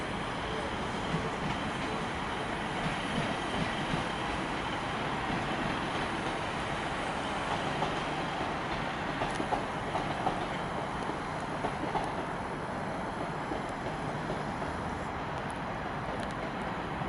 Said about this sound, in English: Class 150 arriving in.